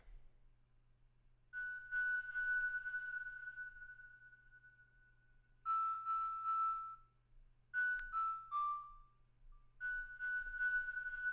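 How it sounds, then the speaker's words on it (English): A pure, whistly synth tone plays sustained and short notes in phrases with pauses between, faint and airy over a low steady hum. "Space flute."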